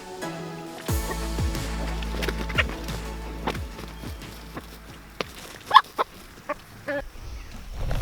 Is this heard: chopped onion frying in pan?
no